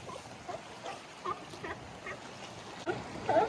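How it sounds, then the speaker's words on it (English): Seals call out in the wind with scattered short grunts and barks, fairly faint and spread out over a breezy background. "I just want to get to hear more of the noise of the seals in the wind."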